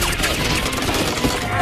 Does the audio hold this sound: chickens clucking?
no